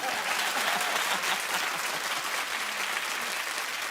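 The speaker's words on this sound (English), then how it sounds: "And for that, I clap." Studio audience at a daytime talk show breaking into steady, full applause that carries evenly throughout, with no talk over it.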